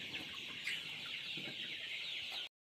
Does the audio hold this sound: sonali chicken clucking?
yes